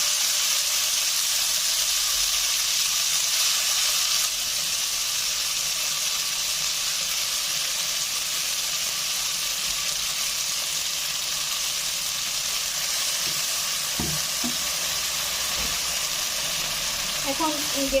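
Garlic and bottle gourd leaf paste frying in a pan gives a steady, continuous sizzling hiss that holds at an even level throughout, with a few faint clinks near the end.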